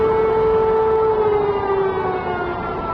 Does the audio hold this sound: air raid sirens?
yes